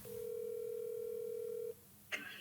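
A steady single phone dial tone rings out for nearly two seconds while a call to Jessel is placed, then cuts off, followed by a brief click and faint line noise.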